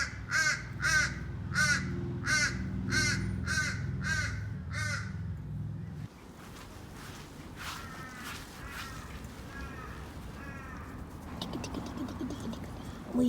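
Crows cawing outside, a regular series of harsh caws heard from indoors, then more scattered calls from several birds against a low background rumble.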